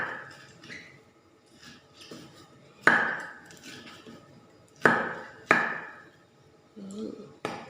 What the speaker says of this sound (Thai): นี่เราหั่นแค่มันเป็นฝอย